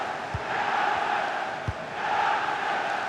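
A stadium crowd in the FC 26 football video game keeps up a dense, steady roar of cheering and chanting throughout, broad and distant-sounding, with a couple of faint low thumps.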